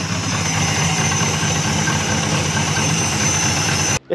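A barn-find Dodge Monaco, parked for 34 years, idles with no exhaust fitted, a steady raw rumble with a faint knocking vibration, close and continuous until it cuts off abruptly near the end.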